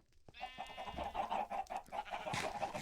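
Chickens cluck on a chicken farm in a Minecraft modpack, a quiet run of repeated clucks and squawks with a brief louder squawk near the end.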